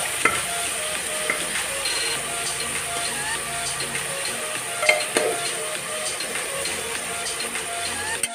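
Mutton sizzles and fries in hot mustard oil with bay leaves, a steady dense crackling hiss with occasional stirring scrapes, close and continuous throughout.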